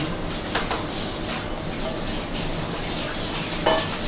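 Chopped onions sizzling in olive oil in a pan with a steady crackle, a couple of louder stirring clatters near the start and end.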